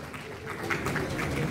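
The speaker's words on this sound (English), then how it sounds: "A round of applause for him also." An audience at a university lecture in obstetrics and gynaecology breaks into brief applause, scattered claps building slightly over a moment at moderate distance.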